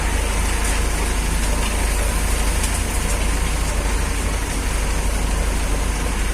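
A tractor engine runs steadily with a loud, constant low rumble while gears are shifted at night, out in the Amazon forest during a rescue of a truck stuck in mud, with no voices.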